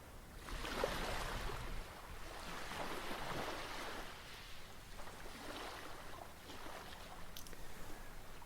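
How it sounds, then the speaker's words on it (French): Steady ocean waves wash in continuous, surging swells with a soft hiss of surf, moderately distant and fairly quiet, with no voices over them. "comme ces vagues devant vous"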